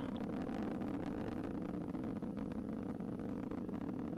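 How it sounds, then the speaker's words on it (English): An Atlas rocket climbs during launch on its RD-180 engines and solid rocket boosters, giving a continuous, even broadband roar with no breaks or distinct events. "And we're throttling up on the RD-180s, still seeing a normal burn profile on the SRBs."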